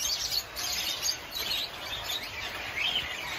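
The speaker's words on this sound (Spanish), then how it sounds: "Inseparables, o pajaritos del amor, como le dicen en inglés, lovebirds." Lovebirds chirping in an aviary, a steady stream of high, bright twittering calls close by, with no voices.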